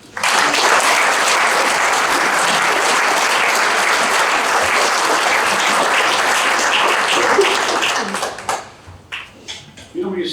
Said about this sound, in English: would you all join me in a round of applause for Mr. Mike Gunther?